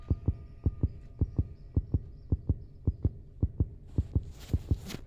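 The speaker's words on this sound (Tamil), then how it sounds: "இங்கே ஹார்ட் பீட் ரைஸ் ஆகுது." A heartbeat in the horror game Granny thumps in a steady, quick double-beat rhythm, loud and close, with a hissing noise joining near the end.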